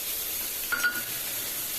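Cumin, fenugreek, dried red chillies, curry leaves and coriander sizzle in hot oil as a tempering for raw tamarind rasam, a steady close hiss with a couple of brief spitting pops and no talk.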